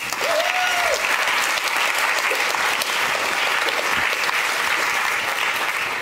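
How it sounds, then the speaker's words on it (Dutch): A room full of audience members at a literary event applauds steadily, a thick, even roar of clapping that holds at full strength from start to finish. "Ze mag gewoon een applaus, jongens."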